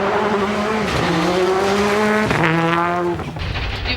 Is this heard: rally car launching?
yes